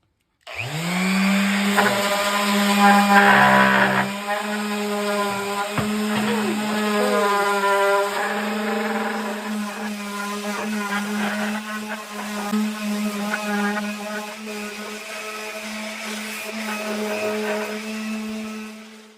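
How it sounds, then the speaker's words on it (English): A power sander runs steadily on a hardwood fish fillet board, a loud continuous motor whine with grinding texture, briefly louder at first and then humming on evenly to the end, with no talking. "Because my other sander rather, cut out on me. Let's see if this one works."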